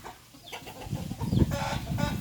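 Burmese chickens roam free in a home breeding yard, giving short, close clucks in scattered bursts over low rustling background noise.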